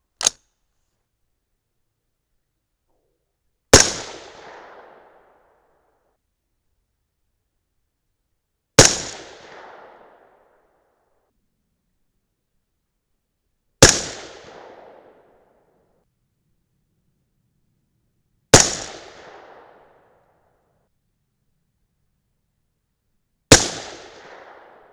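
Six sharp rifle shots from a .223 Remington firing 75gr Speer Gold Dot loads, evenly spaced about five seconds apart, each a loud crack with a short decaying tail against silence.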